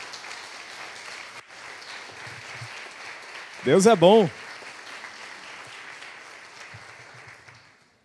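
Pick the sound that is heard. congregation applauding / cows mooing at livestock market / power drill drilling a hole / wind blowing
congregation applauding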